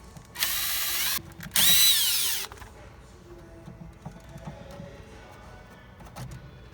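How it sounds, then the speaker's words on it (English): A power drill bores out rivets in the center console of an NBS Chevrolet Silverado, whining loudly in two close bursts of about a second each, followed by quieter handling noises. "so you gotta drill those out"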